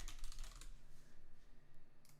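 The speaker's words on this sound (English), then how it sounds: "I'm glad I have this keyboard back because the other keyboard I could not type this fast on" Rapid typing on a computer keyboard during a Type Racer session, with a dense burst of quick keystrokes up front, a quieter stretch, then a few more taps near the end under a steady low background hum.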